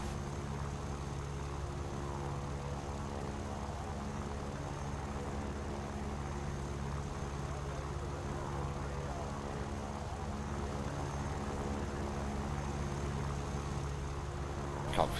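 Yak-3 fighter with VK-107 engine in flight in the video game War Thunder, a continuous droning propeller-engine hum holding steady throughout at a moderate level, with people talking in the background.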